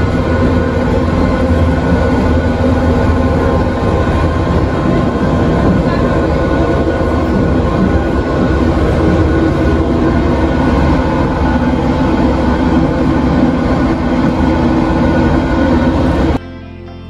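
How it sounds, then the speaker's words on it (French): The Jungfrau mountain train climbing toward the summit, a loud, steady rumble and rattle of the rail car heard from inside for the whole stretch, ending abruptly. "nous allons prendre le train qui nous amènera au sommet de la montagne"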